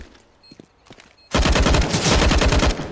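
A sudden burst of rapid automatic gunfire in Counter-Strike: Global Offensive, loud and sustained for over a second after a brief quiet stretch with faint clicks.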